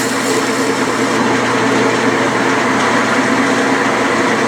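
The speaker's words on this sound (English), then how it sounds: "Now I'll put a nice chamfer on it." Steady, loud whirring machine noise with a broad hiss, a metal lathe cutting a chamfer on a metal part, continuous throughout with no talk.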